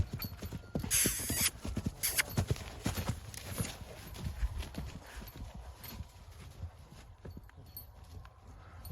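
Several horses walk with a steady clip-clop of hooves, moderately close and fairly quiet, with an occasional faint mechanical rattle and no talking.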